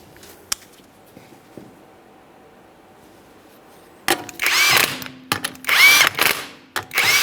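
A power tool drives 19mm lug nuts onto a Ford Fusion wheel, several loud close whirring bursts with brief pauses, following a few seconds of near silence.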